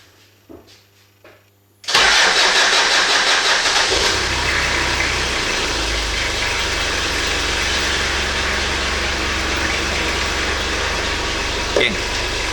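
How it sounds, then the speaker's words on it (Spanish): A car engine cranks briefly and catches during a battery starting test, then settles into a steady close idle that runs on to the end, with quiet handling noises before the start. "Confirmamos de que está todo apagado y accionamos el arranque."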